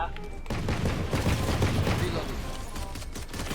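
Dense gunfire in a competitive shooter video game, a loud burst of rapid overlapping shots and booms, with a voice talking over it.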